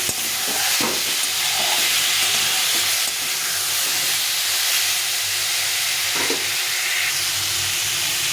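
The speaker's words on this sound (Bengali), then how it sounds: "এই আলুটাও দিয়ে দেবো সঙ্গে দিয়ে ভালো করে কষিয়ে নিই" Potatoes and ridge gourd frying with spices in a pan, a loud, dense, continuous sizzle and hiss up close, with a few faint stirring knocks.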